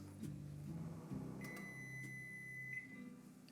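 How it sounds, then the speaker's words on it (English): A microwave oven hums steadily while it melts chocolate, a low constant drone with a faint high whine and a few small clicks near the end. "head over to the microwave and we're gonna melt this for 30 seconds"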